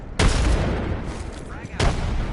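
In Apex Legends, a frag grenade goes off in two sharp, loud blasts with a short rumbling gap between them, over the game's background noise.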